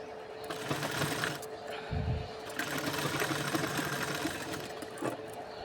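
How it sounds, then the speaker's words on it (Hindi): Sewing machine stitching a blouse sleeve seam, a close, steady mechanical whir with a brief thump partway through. "और फिर इसे भी इसी तरीके से पलट के और सिलाई लगा देंगे।"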